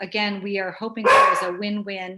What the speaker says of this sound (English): my apologies for the dog.